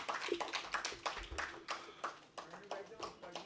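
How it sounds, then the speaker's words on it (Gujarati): An audience at a Gujarati literary lecture applauds the speakers with light, steady clapping that sounds somewhat distant and soft throughout. "આપણે વક્તાઓનું ખૂબ તાળીથી અભિવાદન કરીશું."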